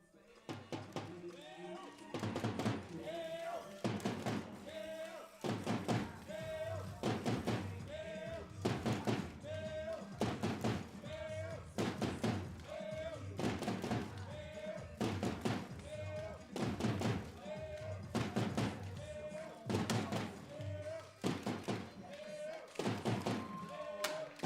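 Rifle shots at a junior women's rifle final, a steady series of short sharp reports roughly every two seconds over a continuous crowd and hall ambience, fairly close and loud.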